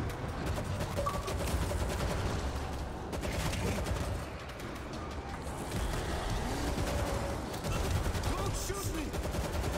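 Dense gunfire and bursts of automatic weapons from the Xbox Series S shooter World War Z, a busy, steady barrage running the whole time, with a voice faintly present in the mix.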